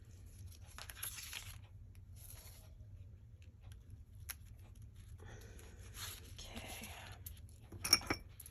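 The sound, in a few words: dimensional tape being torn off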